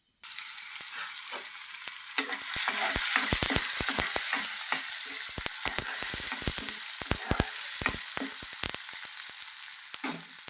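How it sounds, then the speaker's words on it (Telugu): Tomatoes frying in a pan over low flame for upma, giving a steady close sizzle with scattered crackles and sharp pops throughout, no voices. "ఇప్పుడు టమోటాలు వేద్దాము."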